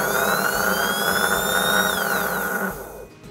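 A 12V DC motor switched on through a MOSFET driven by an Arduino, whirring loud and close at a steady pitch with a rising whine, then slowing and fading out near the end.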